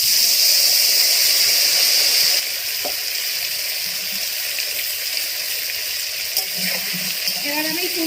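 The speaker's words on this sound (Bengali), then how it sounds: "এবার ফুলকপিটা আমি তেলে দেব।" Cauliflower florets dropped into hot oil with whole spices for a Bengali roast, a loud close sizzle and hiss that drops to a steadier frying crackle, with a few clinks of utensils.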